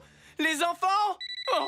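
A telephone rings in a French-dubbed cartoon, a few short repeated electronic tones sounding at the end, right after a brief exclamation from a speaker.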